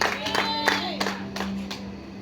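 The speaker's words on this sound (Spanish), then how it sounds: "Denle un aplauso al Rey de Gloria que está aquí en esta noche." A church congregation claps in a run of sharp, evenly spaced claps over a sustained keyboard or organ tone, fairly close and without talk.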